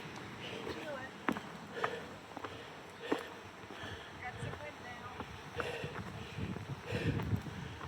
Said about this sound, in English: get over the top of this mountain and the wind is huffing and puffing